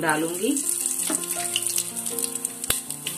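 Asafoetida sizzles in hot oil in a pressure cooker, a continuous crackling hiss running under a woman's close speech.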